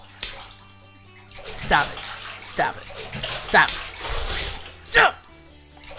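Bathtub water sloshes in a video game, with several splashy, clattering bursts spaced a second or so apart under a person talking.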